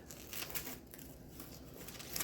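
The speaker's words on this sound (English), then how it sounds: "Then you're going to take your scissors, take you a little piece of your banana leaf." Scissors cut a piece of banana leaf on a table, giving soft, close crinkling and snipping rustles in a few quick bursts at low volume.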